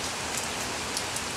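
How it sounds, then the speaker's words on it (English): Steady rain falls on surfaces outdoors, a continuous dense hiss with scattered drop patters, even and unbroken throughout. "it rains"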